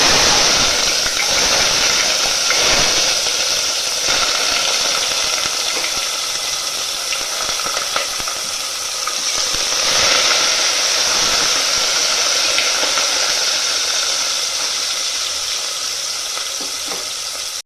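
Small shallots sautéing in hot oil in a pan for a chicken gravy, giving a loud, steady sizzle and hiss that holds throughout with occasional stirring scrapes and no talk.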